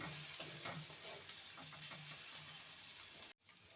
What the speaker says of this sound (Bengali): এখনও আরও দু মিনিট আমি ভালো মতন নেড়ে নেব